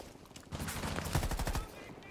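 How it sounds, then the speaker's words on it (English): Bursts of rapid gunfire crackle through a round of Rainbow Six Siege, several quick shots in a tight cluster over about a second, close and fairly loud with faint background noise. "Bullets go flying either way,"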